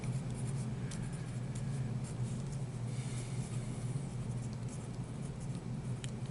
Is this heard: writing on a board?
yes